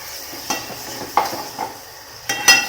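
Ground coconut roasting in oil in a kadai for a Maharashtrian fish dish, with several distinct scraping stirs of a spoon against the pan over a faint sizzle; no talking.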